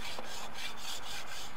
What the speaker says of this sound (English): Using a hacksaw, the two rail ends should be sawn across at right angles